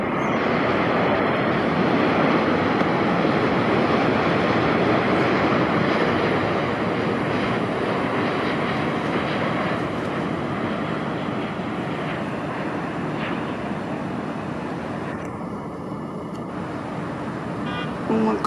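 An airliner inbound from Seoul Incheon lands at LAX, heard as a loud, steady broadband jet roar that holds throughout and eases slightly toward the end, with distant traffic noise underneath.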